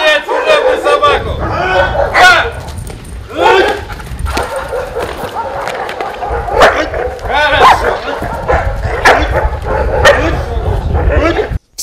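A large service dog barks repeatedly and forcefully, close by, amid shouting and commotion from several people during convoy dog training.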